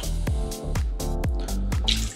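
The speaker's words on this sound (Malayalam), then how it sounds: "പിന്നെ നമുക്കൊരു 1/2 ഗ്ലാസ് വെള്ളം ഒഴിച്ചാൽ മതിയാവും" Water being added to maida flour batter, heard as a series of regular, close drips and splashes about twice a second with no talking.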